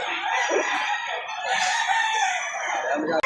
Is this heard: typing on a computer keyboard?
no